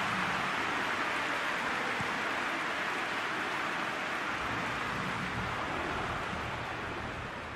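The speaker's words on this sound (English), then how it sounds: "Starting to get the first signs of rain here." Rain falls during a football match in the video game PES 2020, a soft, steady broadband hiss that continues evenly throughout without any other distinct sounds.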